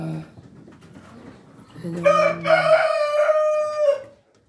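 A Rhode Island Red breeder rooster crows once in a backyard pen, a loud drawn-out call rising and holding for about two seconds, preceded by soft low clucking and hen noises.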